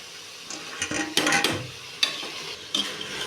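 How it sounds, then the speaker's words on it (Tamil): Masala, tomato, onion, vegetables and meal maker being stirred together in a pot for veg biryani, soft sizzling under a few scraping spoon strokes and clinks against the pot, fairly quiet and close. "மசாலா ஐட்டம், தக்காளி, வெங்காயம், அடுத்தது காய்கறி, இந்த மீல் மேக்கர் எல்லாமே ஒன்றோட ஒன்று சொதற மாதிரி நம்ம மிக்ஸ் பண்ணிக்கலாம்"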